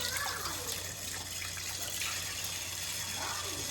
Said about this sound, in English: Okay, so just with cold water, I'm just gonna rinse this off.